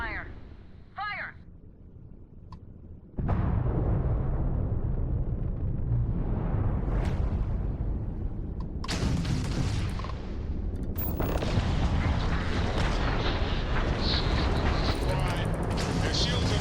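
Starfield space combat: weapons fire and heavy explosions erupt into a loud, continuous barrage of booms and blasts after a brief quieter opening, with voices calling out at the start.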